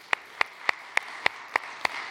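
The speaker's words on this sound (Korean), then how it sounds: "박수 한번 부탁드리겠습니다." Steady, evenly spaced claps ring out from a Sunday worship service congregation at a church in Jeju, about eight sharp beats in a rhythmic pattern, fairly quiet, with no talking.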